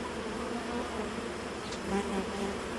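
Honey bees swarm around an open Ukrainian-frame hive with three stacked supers during honey frame removal, producing a dense, continuous buzzing drone close by without talk.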